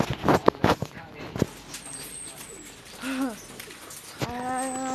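Pet pigeons cooing nearby, with a few soft, rolling coos after some handling noises. A bright whistle-like call follows near the end.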